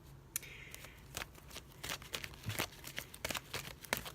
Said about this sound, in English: the shuffling process is the most annoying part of signs